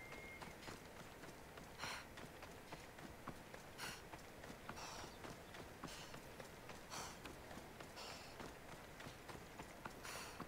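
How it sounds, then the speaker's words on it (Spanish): A horse gallops in the video game Assassin's Creed Odyssey, its hooves beating a steady, rapid clip-clop rhythm that runs faint and unbroken throughout with no talking. "un viaje rico rico en caballo hasta la guerra"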